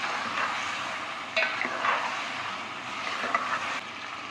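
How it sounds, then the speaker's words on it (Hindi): Tomatoes tipped into a pan of frying onions and garam masala for chicken biryani, giving a steady soft sizzle with a few stirring scrapes and light clinks, no voices. "अब मैं इसमें हाफ टमाटर डालूँगी"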